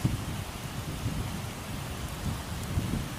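Steady rain falls in a continuous hiss with a low rumble underneath, even and moderately loud throughout.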